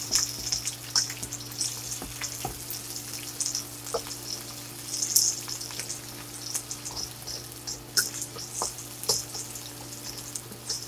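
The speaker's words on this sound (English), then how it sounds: "I'm gonna go ahead and get my ginger, garlic, green onions up in there" Ginger, garlic and green onions fry in hot oil for General Tso chicken, giving a steady close sizzle with light crackles and occasional soft stirring ticks.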